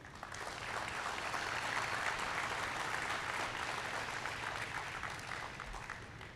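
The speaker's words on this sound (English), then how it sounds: "I want to give you a round of applause" Steady applause from a ceremony audience at a jersey retirement event, dense and continuous clapping that swells quickly and holds even for several seconds, heard from a distance in a large room.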